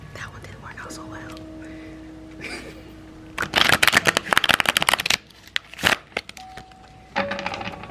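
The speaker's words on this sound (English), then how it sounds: "Please enjoy the music and the sounds of the shuffles." Tarot cards riffled and shuffled in a dense, close run of crisp flicks lasting a couple of seconds, followed by a few shorter shuffles, with soft music underneath.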